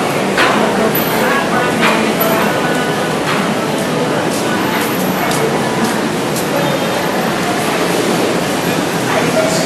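A train passing on Sukhumvit Soi 33 in Bangkok, heard as a loud continuous rumble and clatter amid busy street noise, close by, with a voice talking over it.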